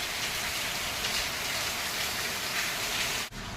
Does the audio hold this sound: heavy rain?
yes